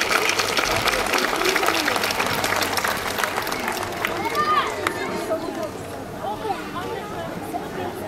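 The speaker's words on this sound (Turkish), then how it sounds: "Kıymetli alkışlarınızla kendisini davet etmek istiyorum" An audience at a Circassian cultural festival claps to welcome a speaker, dense applause that gradually thins and fades, with crowd murmur and scattered voices underneath.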